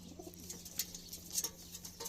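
Soft, low pigeon coos at a distance with a few faint chirps and rustles, quiet and without voices.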